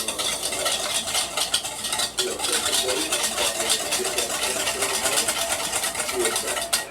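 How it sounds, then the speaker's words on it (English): Food being stirred in a pot beside a Char-Griller 980 smoker for burnt ends, steady close scraping and sloshing with a faint sizzle underneath, continuous throughout. "So we're going to give this a stir."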